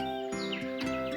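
A small cartoon bird chirps in quick bright tweets with sliding pitch, layered over a sustained musical tone in a Hindi children's cartoon.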